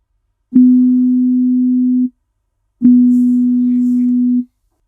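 Two separate pure tones for ear training pitch comparison, each held about one and a half seconds with a short gap between, clean and close, the second very slightly different in pitch, no talking.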